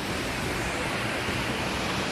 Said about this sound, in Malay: Jeram